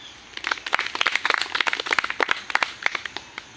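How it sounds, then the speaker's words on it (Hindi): Scattered clapping from an audience at a political rally addressed to fraud victims in Sawai Madhopur, uneven and moderately close, building into a loose burst of claps with no talking over it. "तालियां बजाओ।"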